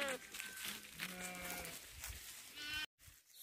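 A herd of goats bleats at a Himalayan shepherds' camp in the evening, several overlapping bleats near and far over outdoor background noise, with some voices.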